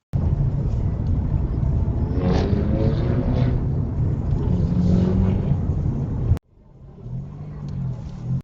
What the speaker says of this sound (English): We've got another one here who likes the loud exhausts.